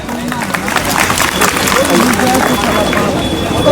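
Loud audience applause and clapping greeting a speaker at a large protest rally outside a district collector's office in Palamu, steady and dense with crowd murmur beneath, continuing for several seconds.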